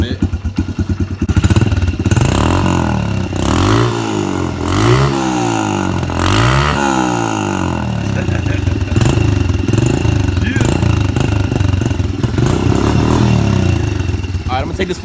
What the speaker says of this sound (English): I got it idling real good now. I got the choke off, it's heated up. I'm gonna rev it up for you guys a little bit.